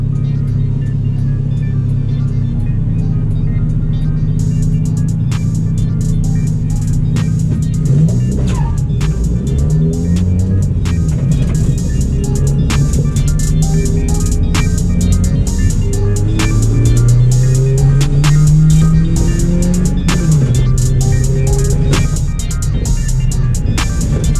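A car on a nitrous kit accelerates hard through the gears, loud engine roar climbing in pitch, dropping at each shift and climbing again, close and sustained with rattling and wind noise throughout.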